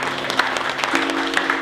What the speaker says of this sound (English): Round of applause for Ezebe too.